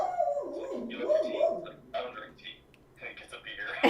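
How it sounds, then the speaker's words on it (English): An excited dog whimpers in rising and falling whines, then gives a few short yips and barks, heard under and between people talking in the foreground. "Dog's excited. Somebody must be outside."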